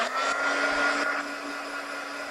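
A hair dryer blows steadily to dry ink on embossed paper, a close, even whirring rush that drops slightly in level partway through.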